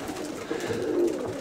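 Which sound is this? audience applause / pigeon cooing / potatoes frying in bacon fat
pigeon cooing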